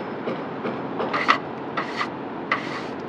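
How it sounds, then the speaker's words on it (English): Brush and scraper working over a dusty surface to clean it before a flat track is installed, producing several short rasping scrapes and rubs at close range in an otherwise quiet setting. "Today we've just got a dusty surface, so we're going to use a brush and a scraper."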